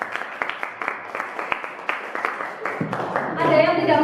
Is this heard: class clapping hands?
yes